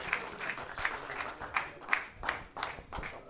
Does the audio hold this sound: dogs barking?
no